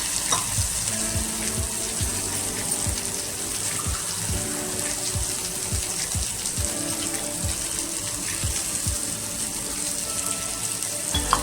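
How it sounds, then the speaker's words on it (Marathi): Water poured into a hot, sizzling pan while making a Konkani bombil (Bombay duck) fish curry. A steady, loud sizzle runs throughout, with repeated low thumps and splashy bursts close by. "आणि त्यामध्ये थोडंसं पाणी टाकायचं."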